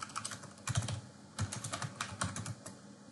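Rapid bursts of typing on a computer keyboard, close and distinct, with clusters of clacking keystrokes separated by brief pauses.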